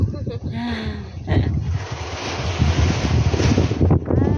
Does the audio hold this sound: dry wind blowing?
yes